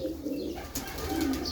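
A pigeon at its nest coos softly in a short, low, rolling call, close by and quiet, with nothing else behind it.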